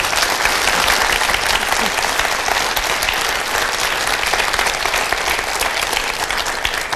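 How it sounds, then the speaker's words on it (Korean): Loud, sustained applause from a lecture hall audience, dense clapping filling the whole stretch at an even level with no voices over it. "박수 한번 해주십시오."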